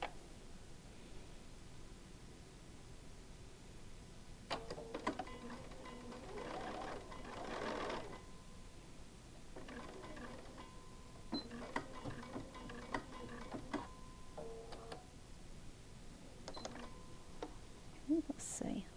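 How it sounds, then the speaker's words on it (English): Sewing machine stitching quilt pieces for a star-pattern block, heard as several short mechanical whirring bursts separated by pauses, fairly faint against a quiet room. "I'm going to go over to the sewing machine and I'm going to sew those together"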